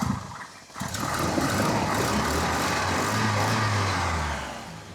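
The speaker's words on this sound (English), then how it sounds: "It just needs a bit of help getting started. Give it a rev for you." A 1988 Volvo 240 engine revs up after a short dip, then holds a steady, loud, rumbling idle-to-rev drone that eases off at the end.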